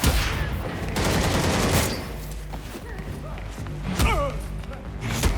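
Gunfire in the video game Gotham Knights, bursts of shots and thuds mixed with loud game music and shouting voices, with a heavy impact near the end.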